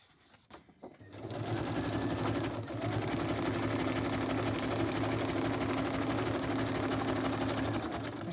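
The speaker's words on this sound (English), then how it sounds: "helps to turn on the sewing machine" A sewing machine stitching zigzag runs as a steady close mechanical whir with a fast needle rhythm, starting after a few quiet clicks and continuing evenly to the end.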